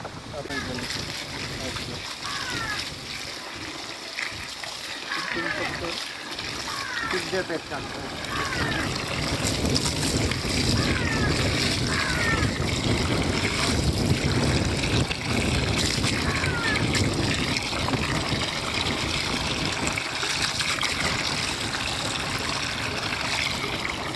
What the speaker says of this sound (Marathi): या होलमध्ये शेण पाणी आणि गोमूत्र टाकल्यापासून हे पातळ होऊन या फिल्टरमध्ये जाणार आहे